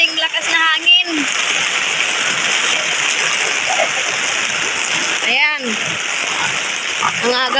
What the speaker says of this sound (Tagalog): Ayan, laging ulan. Umagang umaga pa. Tapos may medyo kunting lakas na hangin.